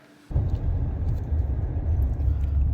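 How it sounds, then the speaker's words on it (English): Heavy low rumble of a truck plowing snow, starting abruptly after a quiet moment and holding steady and close with engine drone and faint scraping overtones. "I am stuck in the truck plowing snow"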